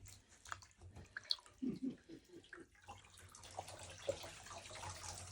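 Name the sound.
crochet wig net being put into water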